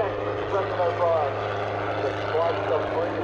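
A helicopter flies over an air festival, its steady rotor and engine drone continuous beneath a loudspeaker announcer talking throughout.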